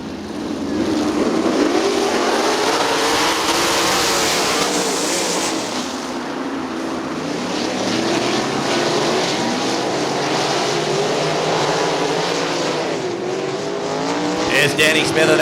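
Outlaw sprint cars roar continuously around Winston Motor Speedway, a loud pack of engines rising and falling in pitch as they pass, with an announcer talking over the race.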